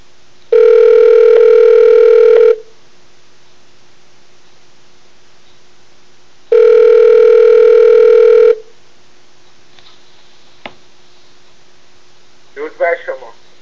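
Two long, steady telephone tones during a Google Voice internet call, each about two seconds with a pause between, followed by a faint click and brief muffled voice fragments.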